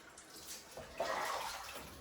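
Lemon juice is poured into dandelion juice, a faint, brief trickling splash of liquid lasting a couple of seconds and heard alone, with no talk.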